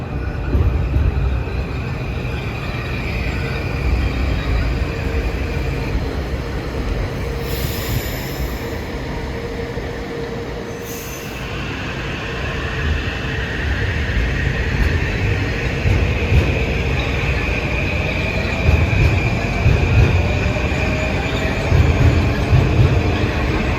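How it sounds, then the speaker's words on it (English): Commuter train 1556 bound for New Haven rumbles into a station in Harlem, a steady loud rolling roar from start to finish with brief high squeals partway through. "arriving at 5:43 is train 1556 to New Haven"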